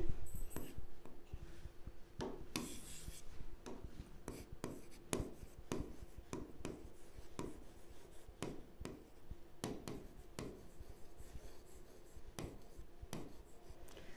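Writing during a Class 9 geometry lesson on circles, a long run of quiet, close scratchy strokes and taps in irregular bursts, heard alone without talking.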